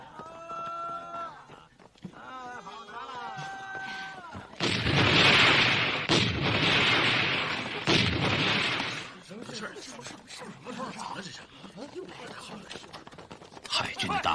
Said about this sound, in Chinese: 海军的大炮